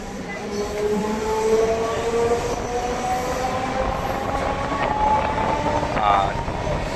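Sealdah local train pulling out of Dum Dum station: a steady heavy rumble with a rising electric whine and occasional wheel squeal, close and continuous, with faint voices in the background.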